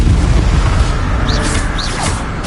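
Confringo blasting spell explosions in Hogwarts Legacy combat, a loud broadband roaring blast that fills the clip, with two short whooshing spell sweeps riding over it midway.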